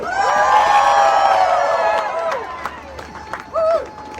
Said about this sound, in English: Give yourselves a round of applause for standing up for democracy